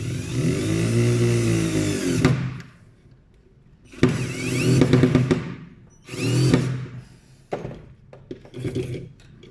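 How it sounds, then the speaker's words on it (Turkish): A power drill drives a screw into a homemade soldering iron stand in several separate bursts, each a whirring motor rising and falling in pitch with short pauses between, close and loud. "E, hatta şöyle vida saplayacağım istediğim gibi çevirebilmek için."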